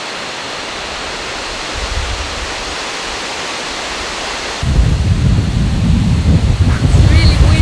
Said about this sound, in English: It's really windy Yeah, very windy today.